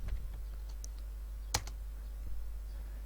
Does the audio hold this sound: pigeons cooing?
no